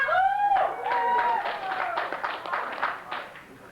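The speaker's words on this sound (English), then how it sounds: "by applause, how many Texans are here tonight?" An audience at a Crested Butte ski fundraiser breaks into applause and cheering, a short burst of clapping mixed with whoops and shouts that fades within a few seconds.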